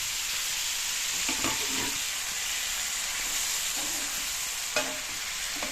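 Salted onions frying in a pan make a constant hissing sizzle, with occasional soft stirring scrapes and one brief clink near the end, no speech heard.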